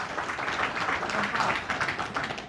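A crowd at a religious talk claps together, a steady dense wash of applause filling the whole stretch with no pause, loud and close.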